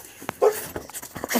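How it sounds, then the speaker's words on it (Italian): An excited dog whimpers and pants close by in short bursts, high whiny yips broken by quick breaths, lasting about a second and a half with no talk. "È un cane impazzito."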